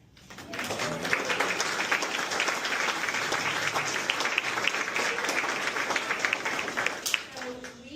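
A roomful of colleagues applauds and cheers for staff member Lee Griffith at a work session, a loud sustained wash of clapping lasting several seconds before tapering off.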